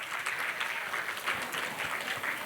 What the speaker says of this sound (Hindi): तालियों से कर दीजिए इनका स्वागत